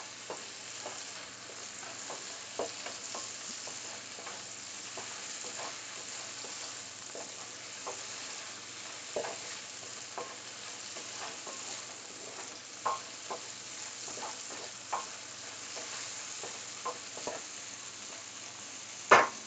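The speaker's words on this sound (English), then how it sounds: "we might just have to stand and constantly stir" Fried rice made from Fourth of July leftovers, with slightly sugary ingredients, sizzles steadily in a pan while being stirred constantly, with a scattering of sharp utensil scrapes and clicks over the hiss and no talking.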